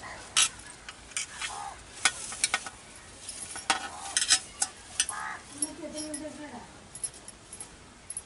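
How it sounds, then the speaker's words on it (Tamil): Spices for a mutton intestine curry masala are ground by hand on a wet stone ammi. Irregular close scraping and knocking strokes repeat throughout, with a faint voice now and then. "இப்போ நம்ம அம்மியில் அரைச்சிக்கலாம்."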